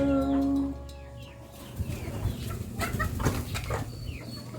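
Farm chickens clucking and calling at feeding time, with a rooster-like crow at the start followed by a busy chorus of overlapping clucks and scratching, fairly close and steady.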